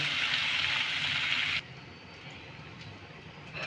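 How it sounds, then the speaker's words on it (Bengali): Potato and pointed gourd sabzi frying in a pan over a medium flame, a steady loud hiss that suddenly drops to a softer, low sizzle partway through. "গ্যাসের আঁচটাকে আমি মিডিয়ামে রেখে ভেজে নেব"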